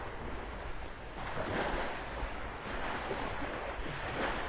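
Surf rolls onto a Gulf of Mexico beach at Delnor-Wiggins in North Naples, Florida, a continuous broad wash of breaking waves mixed with wind buffeting the microphone, with no voices.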